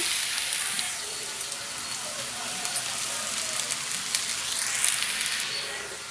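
Cooked rice and softened raw mango tossed in a hot pan for sesame rice, giving a steady close sizzle and scraping stir throughout, with no talk over it.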